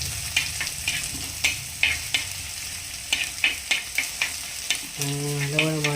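Curry leaves, ginger and garlic fry in a pan with a steady close sizzle, punctuated by repeated stirring scrapes and clacks, and a brief tonal hum near the end.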